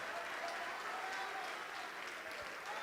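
A church congregation claps continuously in a dense, even wash of applause, moderately faint and steady, with a voice faintly present beneath.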